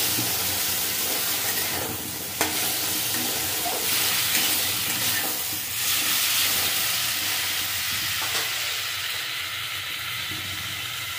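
Drumsticks being stirred into a frying mix of bitter gourd, potato and bean seeds, giving a steady loud sizzle and hiss throughout with occasional scraping stirs and a sharp clack near the start.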